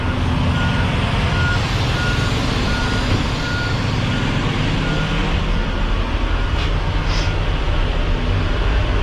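A tipper truck reverses with a heavy, constant engine rumble close by, and faint backup beeps sit under the drone.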